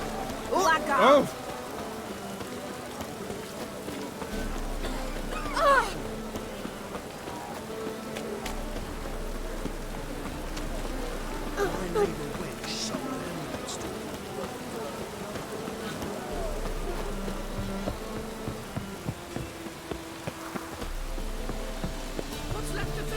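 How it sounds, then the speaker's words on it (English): Rain falling steadily in The Witcher 3 video game, a soft continuous patter under occasional sharper knocks and bumps, fairly quiet throughout. "Rain again."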